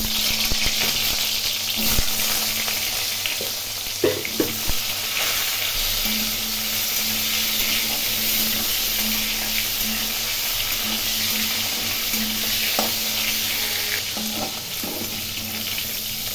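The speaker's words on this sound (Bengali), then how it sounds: "আর তেল গরম হয়ে গেছে, এখন এর মধ্যে পটলগুলো দিয়ে ভেজে নেব" Pieces of pointed gourd (potol) fry in hot oil with a steady, dense sizzle, joined by occasional clinks and stirring sounds, with no talking.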